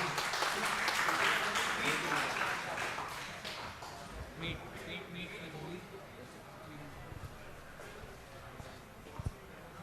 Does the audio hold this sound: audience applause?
yes